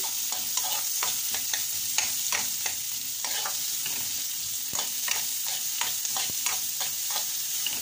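Onion and garlic fry in a pan with a steady sizzling hiss, punctuated by repeated soft stirring scrapes and taps at an irregular rhythm.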